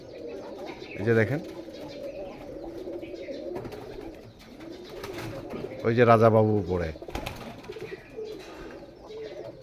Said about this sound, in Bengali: এই যে এখানে আমার আরও কবুতর আছে